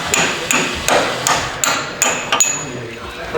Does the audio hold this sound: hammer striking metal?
yes